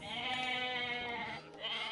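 A goat in Age of Mythology Retold lets out drawn-out, quavering bleats, one long call followed by a second shorter one, close and clear with no talking.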